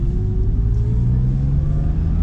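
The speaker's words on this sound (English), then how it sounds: "This one has the factory exhaust," Porsche 911 996 with its factory exhaust, a steady low engine drone that rises gently in pitch as the car accelerates, fairly subdued and heard from on board, with no talk.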